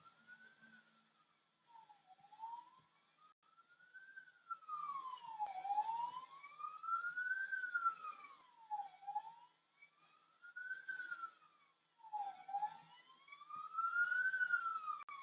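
An emergency vehicle siren wails outside, rising and falling in long sweeps as it passes. It holds clear and moderately loud over a quiet background with no talking.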